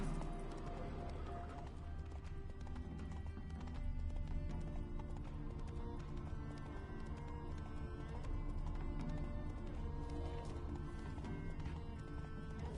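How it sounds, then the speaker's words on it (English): A horse's hooves clip-clop in a steady, continuous rhythm under dense background music and sound, fairly quiet but sustained across the whole stretch. "It's a horse."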